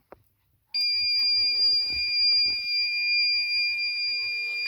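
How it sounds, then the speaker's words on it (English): Vintage COMX-PC1 computer giving a steady electronic beep on power-up, a continuous high-pitched tone that starts abruptly after a brief click and holds loud and unbroken, with faint handling knocks beneath. "Oh, beeping."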